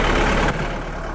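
A John Deere 4520 farm tractor engine running, a heavy low diesel rumble heard up close that drops slightly in loudness about halfway through and carries on steadily.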